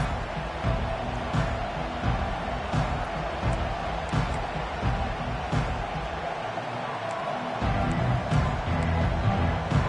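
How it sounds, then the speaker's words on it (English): A large football stadium crowd at a Georgia college football game roars steadily and loudly throughout, a dense continuous wall of cheering with occasional thumps and shouts under it. "This crowd bringing an ear-splitting welcome to their visitors."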